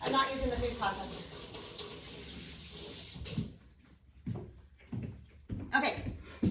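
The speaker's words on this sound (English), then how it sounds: "I'm gonna rinse my hands really fast." Hands rinsed under a running kitchen tap: a continuous rush of water for about three seconds, then it cuts off, followed by a few short knocks and rustles.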